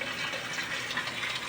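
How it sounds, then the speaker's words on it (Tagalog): A 12-volt water pump moving water, heard as a steady close rush and splash of flowing water with no pauses, moderately loud, no voices. "yan po yung pump"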